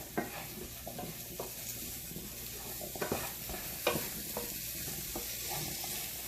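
Potato is stirred into a spiced potato and onion curry in a pan, with a spoon scraping and knocking against the pan over a steady sizzle of frying, close and fairly quiet.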